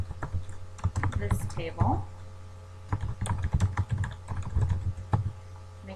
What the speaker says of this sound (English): you just want to type in the information on